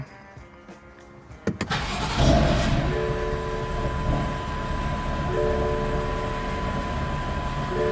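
A BMW engine cranks briefly and catches, then settles into a steady, loud idle hum that continues to the end.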